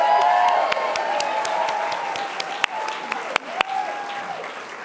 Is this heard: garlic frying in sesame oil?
no